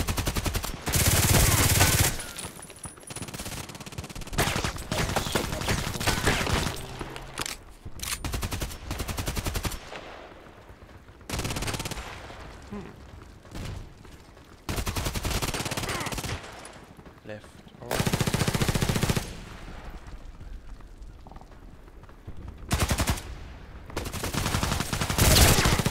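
Gunfire in the Contract Wars video game, bursts of loud shots and rapid automatic fire coming in blocks separated by brief pauses, with a voice talking in between.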